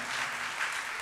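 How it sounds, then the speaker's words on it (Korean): A roomful of people at a gathering claps in thanks for those who made a video, a brief, even burst of applause that is fairly faint and steady throughout. "이번에도 영상 만들어준 우리 분들에게 감사의 박수"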